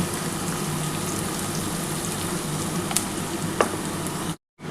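Onions frying in a pan for chicken curry, a steady close sizzle with a couple of sharp pops, cutting out briefly at the end.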